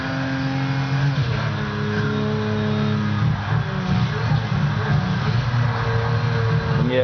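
A car in the racing game Midnight Club LA revs hard while climbing uphill, a loud, sustained engine drone with shifting pitch throughout and no voices.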